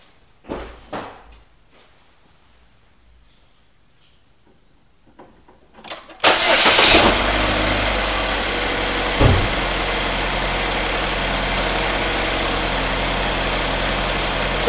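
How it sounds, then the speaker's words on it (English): A Chevrolet Equinox engine cranks and catches after a few quiet clicks and thumps, then settles into a loud, steady idle that holds close by for the rest of the clip. "So I'm going to start the engine and we will do that test."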